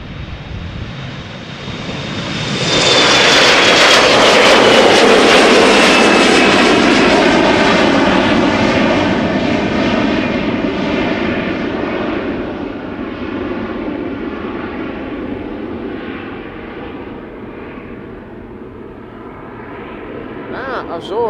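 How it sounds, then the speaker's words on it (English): A KLM Embraer 175 jet at Schiphol Airport roars up loudly after a few seconds of quieter rumble, its broad engine noise and rising whine holding strong and then slowly easing as the aircraft passes, with speech faintly present. "this KLM flight 1799 going to Düsseldorf. Embraer 175"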